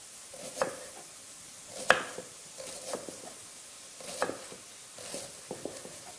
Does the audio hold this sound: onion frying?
yes